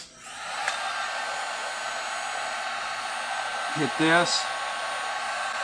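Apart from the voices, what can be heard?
heat gun shrinking heat-shrink tubing on a cable splice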